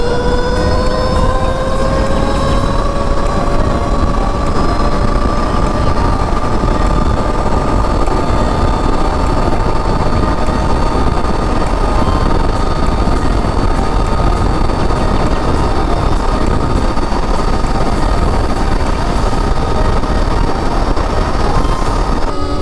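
A Stark Varg electric motorcycle runs flat out at top speed in its 55-horsepower mode 5, giving a steady loud whine with rising tonal pitch over continuous wind rush, unbroken for the whole stretch.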